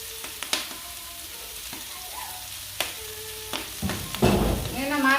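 Cabbage sizzles in a hot pan with sauce for a Thai mixed vegetable stew, with sharp spatula clicks over a steady fry that swells louder and busier toward the end.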